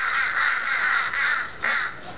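Crows cawing loudly nearby in Shimla, a few drawn-out harsh calls in a row with brief gaps between them.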